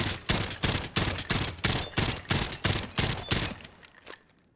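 Rapid automatic gunfire from a video game weapon with no recoil attachments, about ten loud bursts in a steady rhythm over four seconds before it stops, close and alone with no talk.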